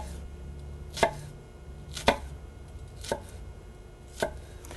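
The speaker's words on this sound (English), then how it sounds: "I'm cutting long slices into this so then I can just cut through it like that." A knife slicing through a beef filet on a cutting board, four evenly spaced sharp cuts about a second apart, close and crisp over a quiet background.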